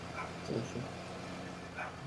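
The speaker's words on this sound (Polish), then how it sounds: "No, słychać psa, słychać." A dog barks outside an open window, a few faint, distant yips and barks over a low background hum.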